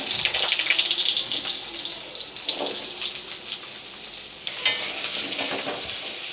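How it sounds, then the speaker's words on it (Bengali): Potatoes frying in oil with cumin seeds for a vegetarian potato paneer curry, giving a steady close sizzle with a few scraping stirs of a spatula and no talk. "তেলে জিরেটা ফোড়ন দিয়ে দিলাম আলু দিয়ে দিলাম"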